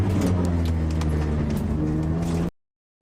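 A drift car at the Ebisu drift circuit drones with a steady low engine note for about two and a half seconds, heard from inside the car, before cutting to silence.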